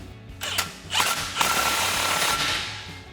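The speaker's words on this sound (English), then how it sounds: "take our 15mm socket to tighten that down" A ratchet fitted with a 15mm socket tightens an exhaust pipe clamp on a 2015-2020 Ford F-150 during a Proven Ground 4-inch single exhaust install. Short bursts of close metallic clicking run for about three seconds, with no talk.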